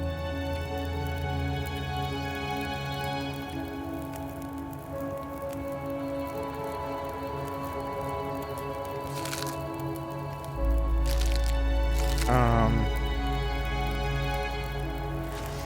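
Water boiling over a campfire in The Long Dark video game, soft crackling and bubbling pops over a steady tonal game-music bed, with a louder low rumble and a quick rising crackle near the end.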